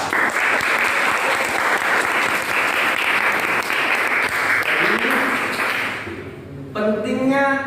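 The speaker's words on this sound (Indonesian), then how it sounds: "Tepuk tangan untuk yang sudah menjawab." Applause from a class of students fills the first six seconds as dense, loud, continuous clapping, then fades as a speaker's voice takes over.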